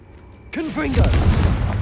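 A Confringo spell in Hogwarts Legacy erupts into a sudden loud explosive boom that rumbles on, with a voice speaking over the blast.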